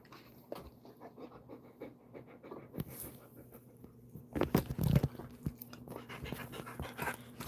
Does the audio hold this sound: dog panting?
yes